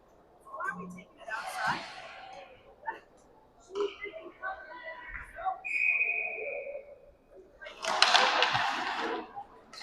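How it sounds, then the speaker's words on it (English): A referee's whistle sounds at an ice hockey game between the Rampage and the Lincoln Stars, one short clear blast amid arena noise, with commentary talk around it. "They blew the whistle when it wasn't covered."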